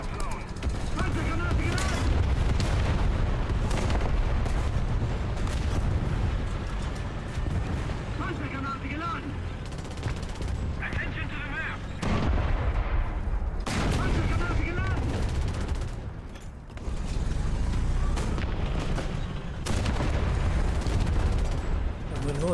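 Tank cannon and gun fire in War Thunder, including a Jagdpanzer 38t Hetzer: dense, continuous battle noise with booming shots and rumbling engines, loud and unbroken, with a voice talking over it.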